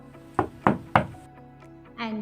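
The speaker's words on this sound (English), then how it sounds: "Knock, knock." Three sharp, evenly spaced knocks on a door ring out close and loud, followed by a brief quiet pause and a faint voice near the end.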